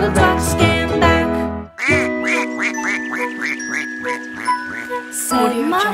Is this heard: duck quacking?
yes